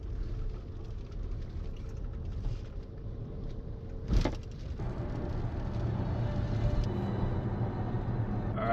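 A car drives along a road toward a glacier area, its engine and tyre noise forming a steady low rumble throughout, with a brief sharp knock or thump partway through.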